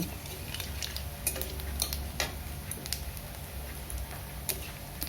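Black cumin seeds frying in hot oil as the tempering for a potato, eggplant and small-fish curry, a faint steady sizzle with scattered crisp ticks and pops of seeds and utensil clinks, no talking.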